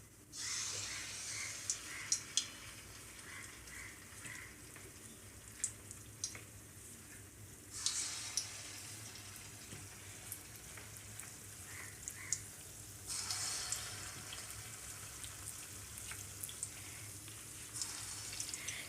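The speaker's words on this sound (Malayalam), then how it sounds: "ലോ ഫ്ലെയിമിലിട്ട് ഫ്രൈ ചെയ്തെടുത്താൽ മതി, അല്ലെങ്കിൽ ഉൾഭാഗം വേകാൻ സാധ്യതയില്ല." Banana bonda fritter balls sizzle in hot oil over a low flame, a steady soft crackling hiss running throughout, swelling louder at two points as more batter goes in, with no talking.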